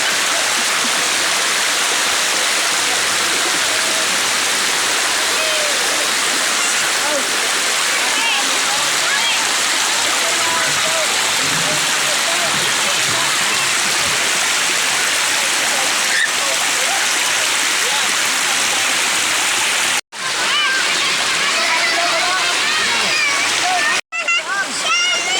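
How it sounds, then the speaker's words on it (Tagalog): Canal Lopez river water rushes and splashes steadily at a crowded outing spot, a loud, continuous wash with brief dropouts. "Ay napakagandang ilog."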